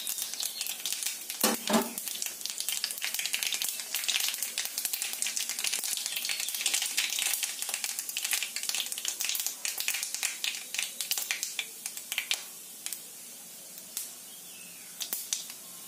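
Mustard seeds and dried chilli sizzling in hot mustard oil, a steady bright crackling hiss with scattered pops and stirring sounds that thins out toward the end.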